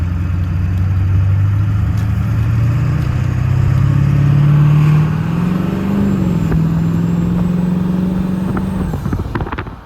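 A diesel truck fitted with a cheap cold air intake revs loudly up close, its deep engine roar rising and holding for several seconds before cutting off abruptly with a brief clatter.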